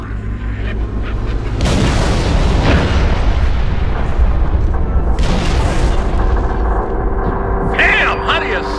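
Heavy artillery fire mission explosions in a Halo: Reach battle, a long rolling series of deep booms and blasts, loud and continuous, with a later surge of impacts and faint radio-style voices underneath.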